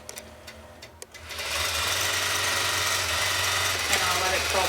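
A computerized quilting machine stitches a quilt: a few clicks, then the motor spins up into a fast, steady, close mechanical whir of rapid needle strokes that continues to the end.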